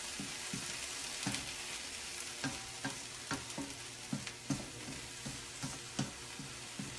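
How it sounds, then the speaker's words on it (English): Cabbage and peppers sauteing in a pan, a soft steady sizzle broken by irregular clacks and scrapes of a utensil stirring the vegetables, fairly quiet and close, with no talk. "So let's just saute,"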